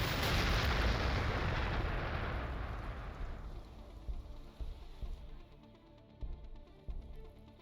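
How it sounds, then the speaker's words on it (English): Artillery shelling a city in the Warhammer 40,000: Gladius strategy game, a loud rolling roar of blasts fading over several seconds into scattered distant booms and pops. "Keep artillery shelling their city."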